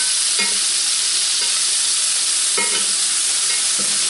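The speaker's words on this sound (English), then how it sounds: "Now we got a few pieces of beef going in here." Pieces of beef sear in a hot pan, a continuous loud, hissing sizzle with a few soft knocks and shifts of meat, and no voices.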